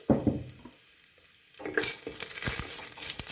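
Cumin seeds, bay leaf, cardamom and cinnamon frying in hot oil in a pan, with crackling sizzle and spoon stirs, briefly quieting midway before a louder burst of spitting and popping.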